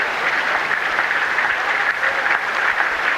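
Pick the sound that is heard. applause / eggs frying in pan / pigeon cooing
applause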